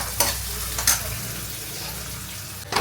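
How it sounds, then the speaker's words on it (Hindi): Poha with capsicum and onion stirred and frying in a home kitchen pan, a steady sizzle under a few sharp scraping stirs near the start and again at the end, no talk. "पहले मैंने शिमला मिर्च डाल दी, प्याज डाल दी, फटाफट से पोहा बना के"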